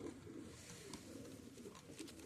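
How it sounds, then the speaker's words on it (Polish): A male pigeon coos softly in low, rolling murmurs, repeated several times against a faint, quiet background. "to jest jeden z gołębi"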